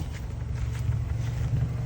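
Steady exhaust rumble from an older car's engine idling after its clogged catalytic converter was removed, a continuous low drone held at close range without pauses.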